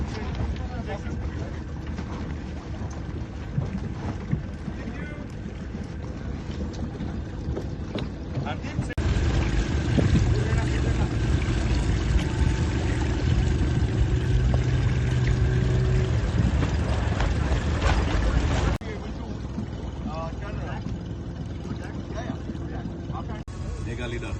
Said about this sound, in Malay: It's the first yacht to be commissioned here at Umiam